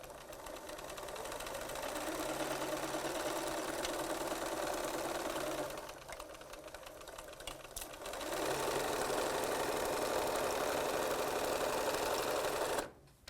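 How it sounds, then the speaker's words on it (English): A sewing machine stitching quilt fabric for a crazy quilt runs in a steady, close whirring drone, briefly easing off in the middle before speeding up again, then stopping abruptly near the end; no talking. "I'm going to sew"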